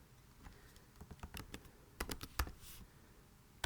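Keys clack on a computer keyboard in quick irregular bursts, with sharper clusters of taps and short pauses between words. The sound is close but fairly quiet, with no one talking.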